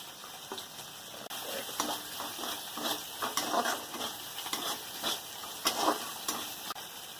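Onion and ginger paste with spices sizzles in a frying pan while a spoon stirs it. A soft, continuous frying hiss is broken by repeated scraping stirs up close.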